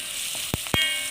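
Jackfruit pieces frying in hot oil in a pan for a Kerala-style upperi, with a steady close sizzle and a few short pops and clinks.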